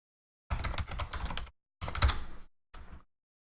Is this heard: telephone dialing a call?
no